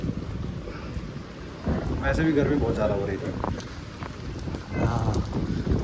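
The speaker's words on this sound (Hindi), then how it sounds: "नहीं यार, बहुत ठंडी बारिश है भाई।" Rain pours steadily with rumbles of thunder rolling underneath, close and fairly loud, while someone talks over the storm.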